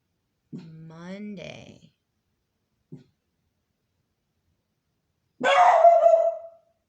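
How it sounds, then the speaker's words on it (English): An indoor dog gives a drawn-out whining yelp, then a brief pause and a short sound, and finally one loud, close bark, with quiet gaps in between. "He barks and there's nobody outside the door."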